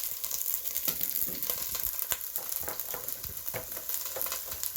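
Asparagus fries in smoking-hot oil in a pan, a steady close sizzle and crackle with scattered pops and stirring clatter throughout.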